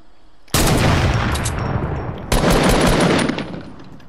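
Loud bursts of automatic gunfire in an online shooter video game, two long rapid volleys close up, the second starting about two seconds after the first.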